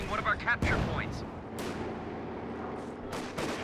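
Anti-tank gun firing in Company of Heroes 2 during a fight with a Panzer IV: sharp booming shots near the start and around one and a half seconds, over a continuous battle din with further impacts and a commentator talking throughout.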